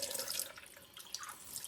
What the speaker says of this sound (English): Just have some running water